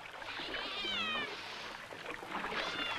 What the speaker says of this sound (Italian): Ma un gatto con tutto il pelo?